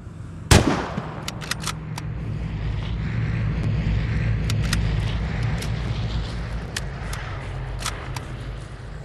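Gunfire in the online shooter Vigor: one sharp, loud shot near the start, then a series of fainter, scattered shots over a steady low rumble of background noise.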